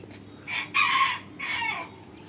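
Chickens on a rooftop garden give two loud, drawn-out crows close by, with a soft clucking murmur running underneath and no talking.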